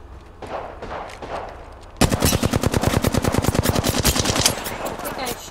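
Rapid automatic gunfire in the Apex Legends video game, a loud sustained burst of closely spaced shots that follows a few seconds of quieter game sounds.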